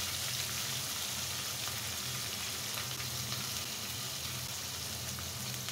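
Potatoes and eggs fry in a pan with a spice mix, giving a continuous, even crackling sizzle at moderate volume, with no voices over it.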